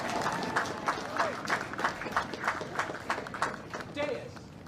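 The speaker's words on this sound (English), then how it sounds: "Class of 2020, one more time, round of applause." A large crowd applauds at a military academy graduation for the class of 2020, producing a dense, sustained wash of clapping with faint voices mixed in.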